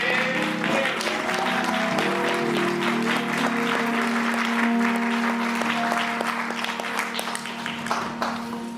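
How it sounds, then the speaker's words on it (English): Chapel audience at Shorter College stands and gives a sustained round of applause for a guest, dense clapping filling the room for several seconds with a steady organ or music tone underneath. "Please stand and help me give a strong round of applause"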